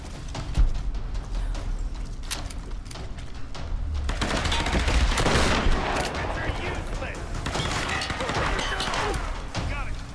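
Rapid gunfire bursts from weapons in the Tomb Raider video game, loud and dense from near the start and intensifying after a few seconds, with a player's voice talking over the shooting.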